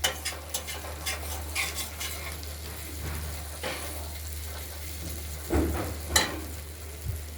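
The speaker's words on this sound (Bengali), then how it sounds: "আবার নেড়ে চেড়ে দেবো। তবে পেঁয়াজকলিগুলো ভাজা ভাজা হবে, তবে নরম হবে।" Chopped spring onions frying in a wok, a soft continuous sizzle with intermittent scraping stirs and a clatter of utensil on metal, fairly quiet with a low hum beneath.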